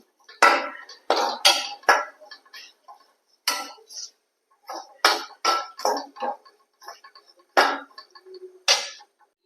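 A spoon stirs spice powder in a metal pan while cooking egg varaval, producing a string of sharp scraping clinks in irregular bursts, close and clear against near silence.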